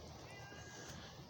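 A new cat in a garden yard gives a faint, drawn-out meow beneath steady outdoor background noise.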